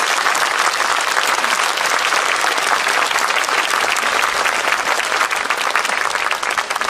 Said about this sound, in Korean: 5월의 광주 시민들에게 여러분 박수 한번 보내주시죠